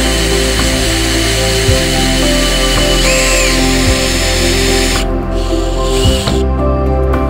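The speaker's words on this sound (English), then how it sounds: "And when you're drilling plastics and acrylics" Power drill boring into plastic knife scales, a loud, steady whirring drone with sustained tonal hum, close and continuous for the whole stretch, slight changes near the end as pressure shifts.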